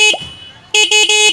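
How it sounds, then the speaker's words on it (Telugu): A Hero Xtreme 125R motorcycle horn sounding up close and loud: one short beep, a brief pause, then three quick blasts in a row. "హార్న్ యొక్క లౌడ్నెస్ అనేది ఒకసారి చెక్ చేద్దాం."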